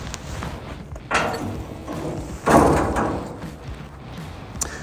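The door of an aerial boom lift machine gives two distinct metallic thuds or slams a little over a second apart, moderately loud against a low background.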